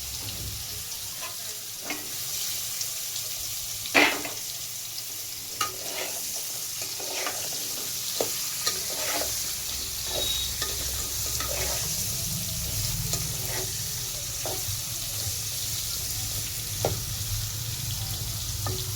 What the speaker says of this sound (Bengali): আর প্রথমে পটলটাকে ভেজে নেব, পরে মাছটা ভেজে নেব আমি ওই তেলেই।